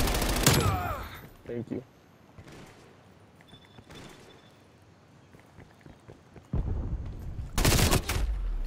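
Bursts of rapid gunfire in Call of Duty: Black Ops Cold War crack at the start and again near the end, with quieter scattered shots and game noise between and a brief spoken remark.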